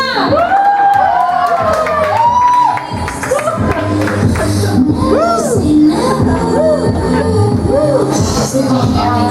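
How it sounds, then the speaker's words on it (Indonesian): A stand-up comedy audience cheers and whoops for a comedian, loud overlapping shouts and rising yells over a dense crowd roar, with clapping mixed in and sustained throughout. "Tepuk tangan untuk Keja Pamana."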